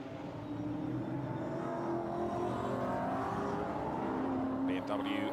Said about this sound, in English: So we are in business then as the cars flood out onto the circuit.